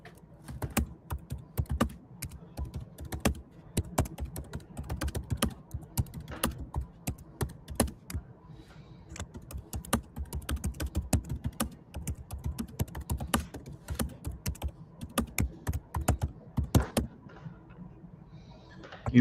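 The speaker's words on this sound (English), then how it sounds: "Can you hear me typing?" Steady clicking of keys on a computer keyboard, close and clear, in uneven bursts with brief pauses between them.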